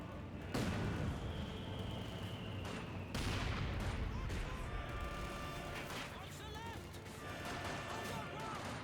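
Mortar blasts and rifle and machine-gun fire from a Company of Heroes 2 battle on the Malmedy map, a dense continuous barrage with sharp bursts and booms layered over music and battle noise throughout.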